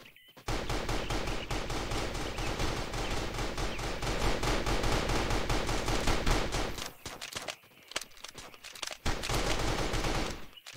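Dense automatic gunfire from a battle royale video game rattles almost nonstop for about six seconds, breaks off briefly, then resumes in loud bursts near the end; no talking over it.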